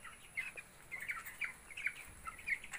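Faint, high peeping of 45-day-old chickens with colds, a scatter of short irregular chirps over a quiet background.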